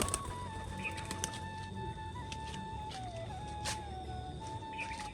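Pigeons, including a male bird, in a loft make soft low cooing and rustling, with faint chirps and occasional sharp sounds over a steady background hum; no one speaks.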